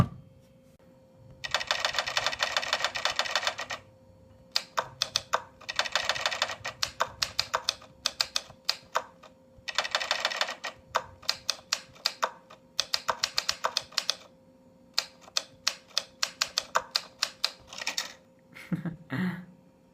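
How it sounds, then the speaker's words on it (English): Typewriter sound effects from the Hanx Writer app on an iPad: bursts of rapid, crisp key clacks in runs and pauses, with occasional bell-like chimes and a carriage-return thunk near the end, close and clear with no talking. "So that was a test of this new app called Hank's Writer, or the typewriter application, essentially."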